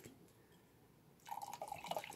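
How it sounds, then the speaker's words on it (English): Water poured into cacao paste while making ceremonial cacao at home; after a quiet start, a steady trickling pour begins and runs at close range to the end, with no talking. "I'm just going to put a little bit of that water and then some cold."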